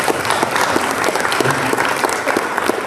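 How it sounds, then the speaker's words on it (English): Dense, steady applause from a large crowd at a city's state-of-the-city address, loud and continuous throughout without a break. "Yes, that deserves a round of applause."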